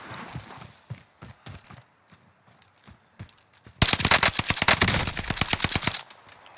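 Gunfire in a Warzone match: scattered single shots give way to a loud, rapid burst of automatic fire lasting about two seconds, close and dominant, then trailing off.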